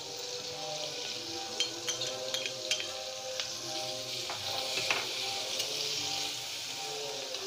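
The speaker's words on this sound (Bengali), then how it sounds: "এবার দিয়ে দেব আদা বাটা।" Ginger paste sizzles in a hot pan while a potato paneer curry cooks, a steady moderate frying hiss broken by faint clinks and small pops, with no talking.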